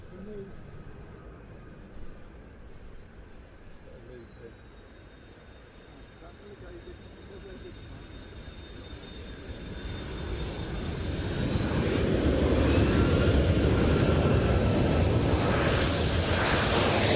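A Royal New Zealand Air Force twin-engine jet transport at an air show starts as a distant whine and swells into a loud, close engine roar, while a commentator talks over it throughout.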